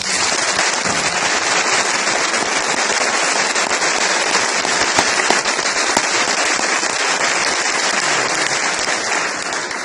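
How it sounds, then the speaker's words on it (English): Loud, dense audience applause at an 8th grade academic awards ceremony, many hands clapping continuously and evenly throughout, close and full with no talking over it. "Let's give him a round of applause"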